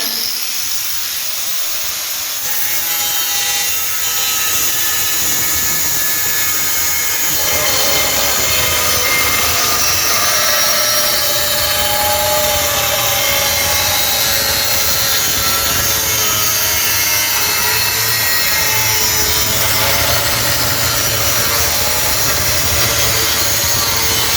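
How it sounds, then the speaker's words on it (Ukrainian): An angle grinder cuts a metal workpiece while material is prepared for welding, giving a loud, continuous, steady whine and hiss close by for the whole stretch with no break. "Вимикаємо. Болгар положимо на стіл після остаточної зупинки."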